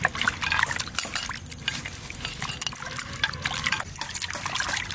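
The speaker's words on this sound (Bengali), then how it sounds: "বালি আছে প্রচুর, তাই প্রথমে আগে ধুয়ে নেব" Water splashes and trickles steadily as sandy fish and large red radishes are rinsed by hand in a basin, close and continuous with no talk.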